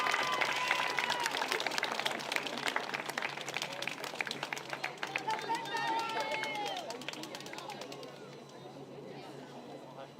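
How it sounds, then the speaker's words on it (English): Applause and crowd noise from spectators at the Women's Hills Cup football final for the runners-up, Castle Hill United, continuing for about ten seconds with voices and chatter mixed in, then easing slightly toward the end. "please put your hands together one more time for the runners-up for the Women's Hills Cup"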